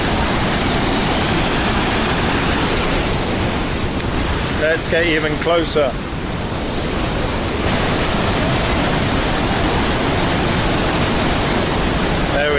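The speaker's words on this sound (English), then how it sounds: "There was a lot of rain last night, so this waterfall is really surging." A waterfall on Lake Phewa, Nepal, swollen after heavy overnight rain, roars loud and close as a steady broadband rush throughout, with a person speaking briefly over it midway.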